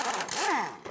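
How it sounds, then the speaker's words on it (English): A pneumatic air impact gun spins a bolt off a car's lower suspension arm, a short whirring burst whose pitch rises and falls within under a second. "I'll grab the air gun, we'll get that bottom one off there."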